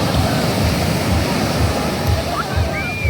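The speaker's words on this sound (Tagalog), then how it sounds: "Ang lakas ng alon." Strong sea waves surge and wash continuously, a loud broadband roar of surf close by, with faint voices talking over it.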